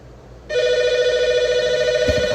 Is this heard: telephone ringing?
yes